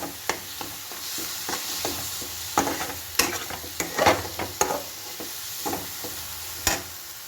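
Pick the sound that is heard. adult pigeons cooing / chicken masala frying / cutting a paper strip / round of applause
chicken masala frying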